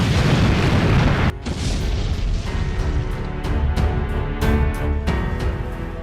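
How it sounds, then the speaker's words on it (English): A huge explosion blows up the northern city wall of Edessa during the Turkish siege, a loud booming blast cut off sharply and followed by a sustained rolling rumble with crackling debris and fire. "With a huge explosion, the wall blew up, raising smokes and flames."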